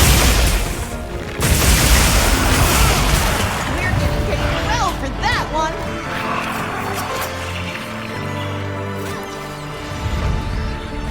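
Explosions in the video game Monster Hunter Wilds produce loud, dense booms and crashes that fill the whole stretch, layered with continuous game effects and voices.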